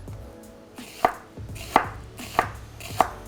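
A knife chops a red onion on a board in four crisp, evenly spaced strokes, close and distinct, with soft handling noises between them.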